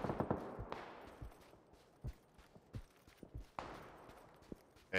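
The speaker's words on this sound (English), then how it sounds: "I think I heard a shot by me here." Scattered gunshots in PUBG: Battlegrounds crack at uneven intervals, some sharp and near and others softer and farther off, over quiet ambient game noise. No voices.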